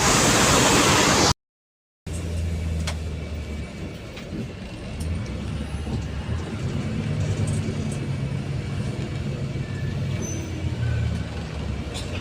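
Heavy road traffic near Buendia, with buses and cars crawling in a jam, forms a continuous low rumble with a faint hiss of air brakes. A loud burst at the start cuts to a brief silence before the traffic noise resumes.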